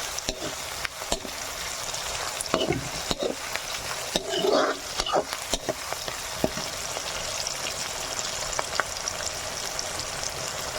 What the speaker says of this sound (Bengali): এগুলো ভালো মতন করে একটু ভেজে নেবো পেঁয়াজের সাথে